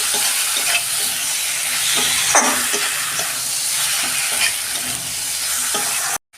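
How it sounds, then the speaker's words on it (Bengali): Whole spices such as cinnamon, cardamom and cloves sizzle and fry in a pan while being stirred, a steady loud hiss with scraping strokes throughout, ending abruptly. "এবার ভালো করে আমি কষাবো।"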